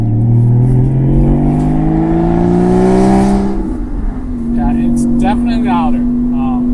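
Car with an FVD Stage 2 tune and new headers, its engine loud and close as it accelerates with rising, steady revs for several seconds, then settles into a lower drone.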